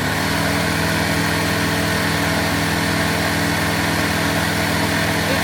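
A generic off-the-shelf garage air compressor runs at full tilt, producing a loud, constant, dense mechanical roar and clatter that never lets up and has no voices over it.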